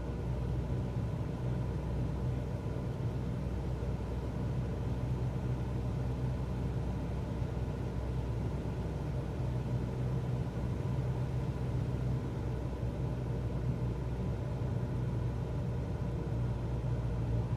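Cessna 172 engine in Microsoft Flight Simulator 2024 drones steadily with a low, even rumble during a landing approach, continuous and fairly loud throughout with no talking.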